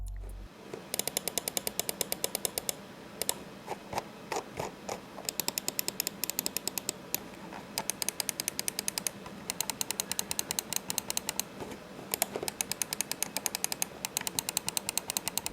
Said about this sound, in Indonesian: berikut ini merupakan contoh suara dari switch yang ada di Digital Alliance Tera Gaming Mouse.